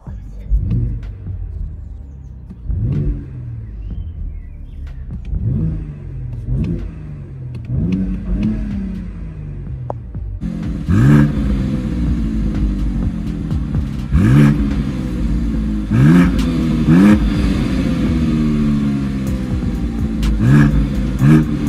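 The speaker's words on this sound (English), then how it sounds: "Let's give it a couple of revs for the camera." BMW X3 M engine in M2 mode revved repeatedly from idle, each blip rising and falling quickly with a soft limiter, close and loud; a second series of sharper revs follows over a steady rumble.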